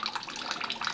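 Whey trickling and dripping from freshly made urdă cheese during farmhouse cheesemaking, a continuous light watery patter with small drips, close and fairly quiet, with no voices.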